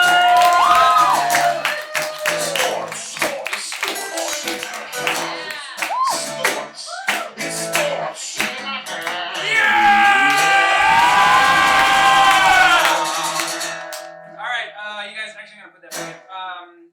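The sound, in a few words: studio audience applause and cheering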